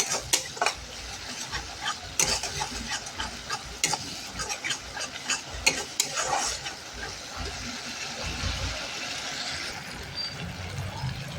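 A thick cashew and clove paste is stirred and fried in a pan for a vegetarian matar paneer, with the spoon scraping repeatedly against the metal over a low, steady sizzle.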